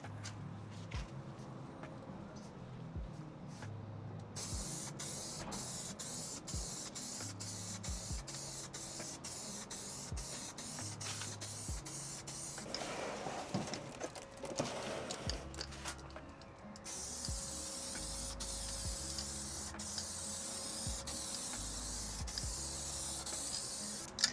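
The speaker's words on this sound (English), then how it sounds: "We'll go pretty heavy on this coat again too. Running out of paint." Heavy spray-paint coat being applied to a Harley-Davidson Sportster part, with long steady hissing bursts that start and stop, loud and close, over a low background hum.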